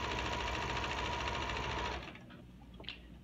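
Sewing machine stitching fabric with its dual feed disengaged, running in a loud, steady, close-up whir for about two seconds before stopping, leaving only faint handling noise.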